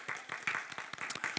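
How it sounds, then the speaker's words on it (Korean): Church congregation applauding in welcome for visitors, a short burst of dense, irregular hand claps at moderate level with no talk over it. "우리 박수로 한번 환영의 인사."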